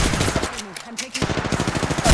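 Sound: gunfire at player, from Apex Legends video game

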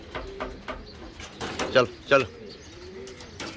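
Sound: pigeons cooing

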